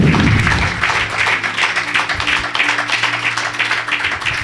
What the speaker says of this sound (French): louer Dieu par nos acclamations?